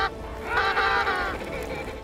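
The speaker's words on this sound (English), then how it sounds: "You can even hear the mother penguin crying out for her lost baby." Mother penguin calling out for her lost chick, a loud honking, braying cry lasting about a second, nasal and harsh, rising over a steady background of wind or colony noise.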